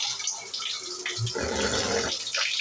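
Running shower water splashes and hisses in a cold morning shower, a steady close wash of spray with shifting gurgles, no voices.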